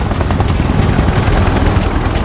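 A helicopter in the video game Final Fantasy VII Remake Intergrade thrums loudly with fast, pulsing rotor chops, mixed with bursts of combat gunfire and no talking.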